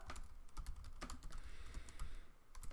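Fingers type on a computer keyboard in a quiet room, producing a quick, uneven patter of light, faint key clicks with no voices.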